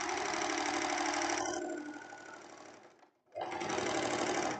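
A sewing machine runs a topstitched seam on a summer tank top, a loud close steady whirring stitch that slows, stops briefly, then starts again at full speed.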